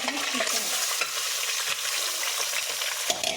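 Curry leaves dropped into hot oil with cumin and spices for chicken 65, giving a loud, steady crackling sizzle with scraping stirs close up and no voices.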